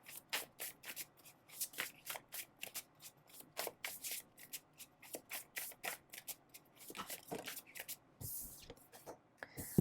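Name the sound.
shuffling and drawing tarot cards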